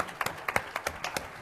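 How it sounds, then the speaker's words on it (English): A crowd claps for Hannah Otteson at a STEM education event, the claps quick, scattered and fairly soft, with no talking in the clip. "Can we give her a nice round of applause?"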